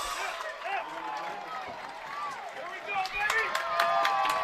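A high school football crowd at a Riverside Poly versus Patriot game roars and cheers in the distance under steady commentary, swelling louder toward the end with whistles and cheers.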